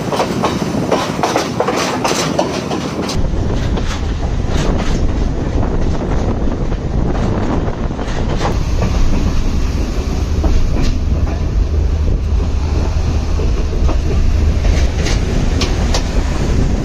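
A passenger train runs along the seaside line from Galle to Colombo in Sri Lanka, a loud steady rumble with rhythmic clickety-clack of wheels and wind buffeting the microphone throughout.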